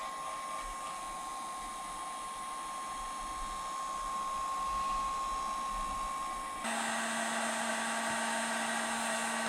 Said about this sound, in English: All that I'm trying to do is heat up the glue so then it'll be a little bit easier to peel off.